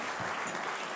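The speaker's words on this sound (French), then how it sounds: "On peut vous applaudir" Audience at an evening hospital event on AI and teleconsultation claps in a short, dense burst of applause that fills the moment without a break.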